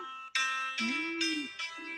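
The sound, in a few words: small piano playing keys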